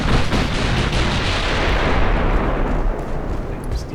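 Naval gunfire from battlecruisers in the 1920-era warship game Ultimate Admiral Dreadnoughts: a continuous, dense rumble of heavy artillery with repeated booming reports blending together, loud and sustained throughout.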